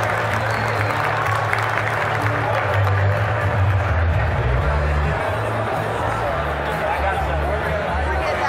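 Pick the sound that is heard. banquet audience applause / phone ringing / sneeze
banquet audience applause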